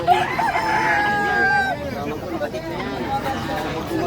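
Roosters crow at a chicken pen, with long drawn-out calls up front and rising over a steady backdrop of background chatter and farmyard noise.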